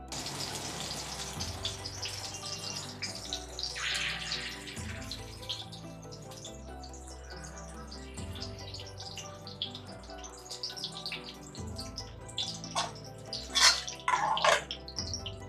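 Minced meat kebabs frying in oil on a hot tawa griddle over low heat, with a steady soft sizzle and crackle running throughout and a few brighter spatters near the end.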